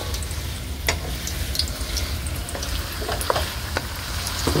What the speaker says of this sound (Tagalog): Haluin na po natin ito mga idol.